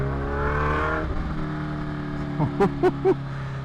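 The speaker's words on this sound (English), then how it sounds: "Obviously hear the exhaust on it." A 2023 Kawasaki H2 motorcycle exhaust idles with a low rumble, then gives three short, sharp revs in quick succession near the end.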